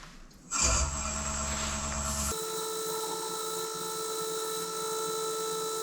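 A wood lathe spins up an idigbo and sapele bud vase with a sudden motor whine. The pitch then shifts into a steady high hum with bright tonal overtones that runs on close and unbroken, with no talking.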